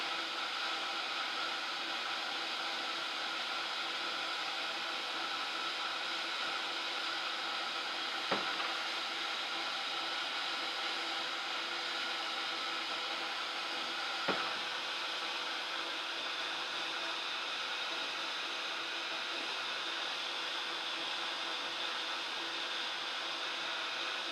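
A heat tool blows a steady, loud, even whooshing hiss for a long stretch while drying VersaFine Clear ink, with a couple of faint clicks partway through.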